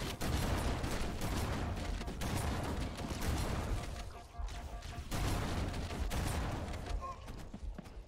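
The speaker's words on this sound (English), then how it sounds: "I fucking shot him so many times with the needler." Needler gunfire in Halo: Combat Evolved, dense rapid bursts of crackling shots that run almost continuously with brief lulls, loud and close, with faint talk mixed underneath.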